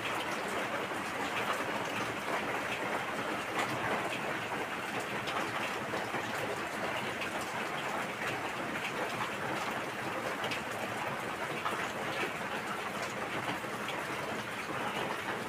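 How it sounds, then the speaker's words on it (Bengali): Rain falls outside on a rainy day, making a faint, even hiss of drops that continues unbroken and unchanging, with no voices over it. "বাইরে বৃষ্টি হচ্ছে"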